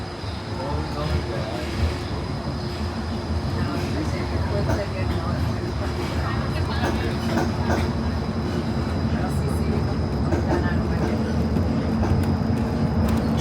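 The Disneyland Monorail rides along with a steady, loud rolling rumble and hum from inside the car, while a voice is heard over the ride noise.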